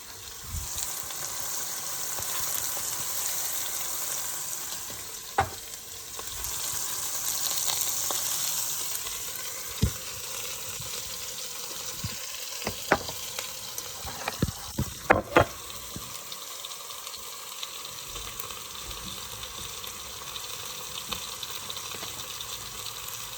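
Ground beef frying in a pan, a steady close sizzle throughout with occasional sharp pops and utensil clicks while stirring.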